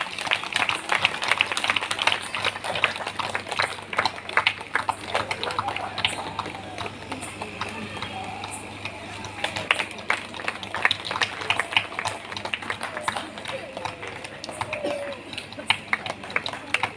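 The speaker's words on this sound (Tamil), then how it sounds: "கொண்டாட போகிறதுக்கு கைத்தட்டி பாராட்டுவோம்" A church audience at a special evening worship service claims hands in applause, a steady dense patter of many hands that runs through the whole stretch, with a voice talking over it.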